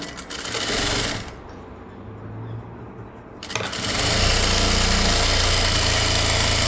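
A sewing machine runs loud and close while stitching a quarter-inch hem on a synthetic-lined blouse, a rapid whirring run that stops, leaves a quieter gap, then starts again and keeps going steadily.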